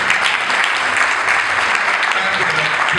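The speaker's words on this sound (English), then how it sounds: "Clap it up" An audience at a celebratory stage event honoring a Broadway performer breaks into loud, sustained clapping, a thick continuous roar of many hands with faint crowd voices mixed in throughout.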